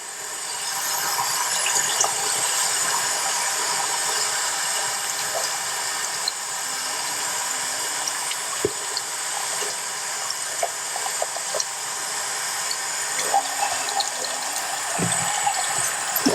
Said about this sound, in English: We're gonna wash it in cold water so we don't agitate the